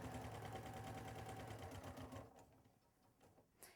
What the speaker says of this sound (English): to the sewing machine and make a nice little stitch really, really close to this edge right here